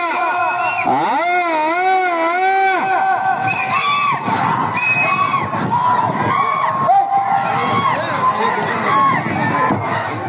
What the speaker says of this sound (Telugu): కేకలు రావాలా? కేరింతలు రావాలా?